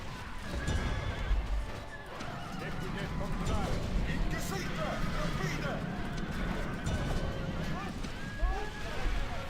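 Cavalry horses in the Europa Barbarorum battle game neigh and whinny repeatedly over galloping hoof clatter and battle noise, with someone talking throughout.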